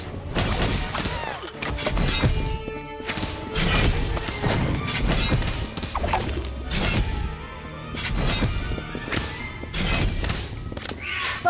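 Loud, dense burst of spell impacts in the Harry Potter Magic Awakened video game, the Bombastic Bomb blast landing among repeated heavy thuds, crashes and shattering hits that run continuously with no pauses.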